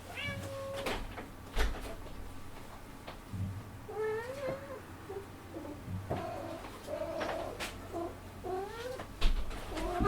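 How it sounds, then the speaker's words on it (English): A cat meows repeatedly outside a door, wanting to be let in, a series of insistent, somewhat angry cries at moderate distance over a quiet background, with faint bird coos. "my cat wants to come in"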